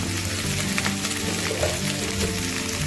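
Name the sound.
ginger paste being stirred and fried in a pan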